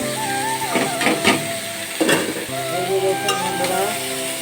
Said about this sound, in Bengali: আলুগুলা কুচিয়ে রেখেছিলাম এগুলো দিয়ে দেবো